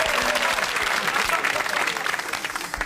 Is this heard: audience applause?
yes